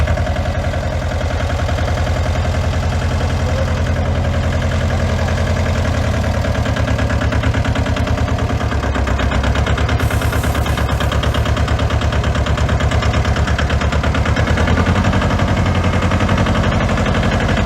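A Charlie Tornado Force disinfection sanitizing sprayer runs outdoors with a loud, steady engine drone and a rapid rattling pulse that holds throughout without pause.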